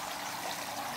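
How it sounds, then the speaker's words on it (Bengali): Water running continuously through a resort's water filter, a steady rushing flow with an even, unbroken wash of sound. "জল চলছে, ফিল্টার হচ্ছে, সবসময় জল ফিল্টার হচ্ছে।"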